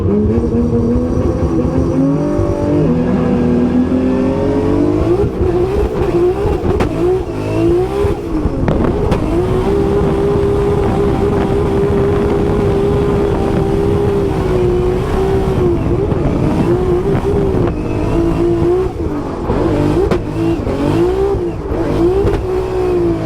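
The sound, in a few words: drift car engine revving and downshifting at Formula Drift Orlando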